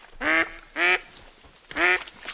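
Ducks in the hunting game theHunter Call of the Wild give three loud, nasal quacks spaced about a second apart, clear against a quiet background with no talking.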